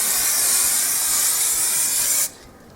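A spray paint can laying down a thin coat: a steady, close, loud hiss lasting about two seconds that cuts off abruptly into quiet.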